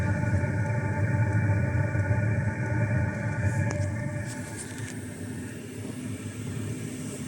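A diesel heater runs inside a converted van, giving a steady low mechanical hum and drone with faint higher tones that holds throughout and eases slightly in level, with no speech.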